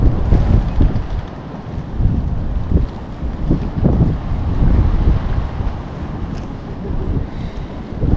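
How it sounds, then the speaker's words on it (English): Strong easterly wind battering a fishing pier in Dublin, a loud, constant roar with gusty surges throughout and a rumbling low buffet. "they cancelled it because the wind was so bad."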